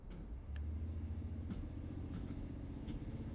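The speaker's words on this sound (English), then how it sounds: "watch the RPMs go up, about 2 grand" Engine of a 2009-2020 Ford F-150 running in a steady low rumble as it revs to around 2000 RPM, close and continuous, with a few faint clicks over the hum.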